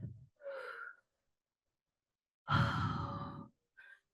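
Deep yoga breaths during a Friday core class at Monona Terrace: a short inhale, then a long, loud, sighing exhale and a brief final breath, close and clear between pauses of silence.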